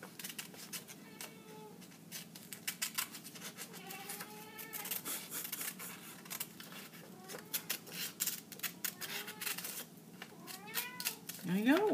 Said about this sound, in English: over there meowing at a squirrel now